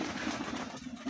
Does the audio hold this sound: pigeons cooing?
yes